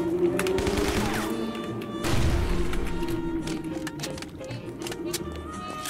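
Gunfire in a hand-drawn 2D zombie game, Guns, Gore & Cannoli, comes as dense bursts of shots and booms with thuds, continuous and fairly loud, blended with game effects and faint talk.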